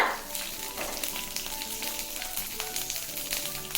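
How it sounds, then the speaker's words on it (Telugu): Cumin seeds frying in hot oil before ridge gourd pieces go in, a steady close crackling sizzle that carries on without a break, with no voices. "కొంచెం దోరగా వేగనిద్దాము ఒక్క క్షణం జీర వేగిన తర్వాత"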